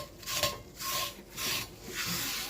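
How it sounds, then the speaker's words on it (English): A napkin wipes out a greasy cast iron pan, giving four rhythmic scrubbing strokes, quiet and close, with no talk. "I just wipe it out and then leave some of the grease in the bottom."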